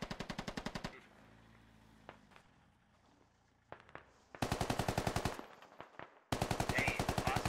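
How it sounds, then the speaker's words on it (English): Bursts of automatic gunfire in the military shooter game Squad, loud rapid volleys at the start and in two later stretches, with quieter single shots and clatter between. "Shooting at us right now."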